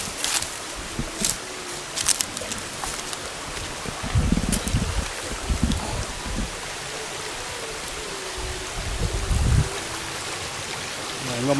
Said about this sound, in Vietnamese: Đây cảnh suối rừng còn nguyên sinh nguyên sơ,